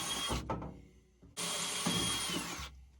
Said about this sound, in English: I'm drilling the hole for the electrical to come into this bay.